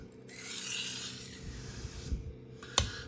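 A knife edge is pushed edge-leading across a wet Naniwa Chosera 600 grit whetstone, making a soft, close gritty rasping scrape with gentle rubbing strokes and a light tap near the end.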